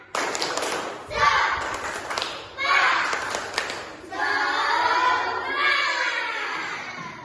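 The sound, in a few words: rhythmic class clapping chant (tepuk semangat)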